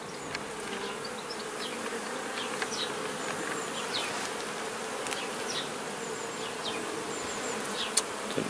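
Honey bees buzz steadily around an open hive during an early April inspection, with a dense continuous hum and occasional individual bees passing close by, no talking.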